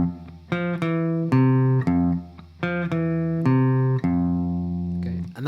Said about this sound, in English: So that opening riff should sound like this.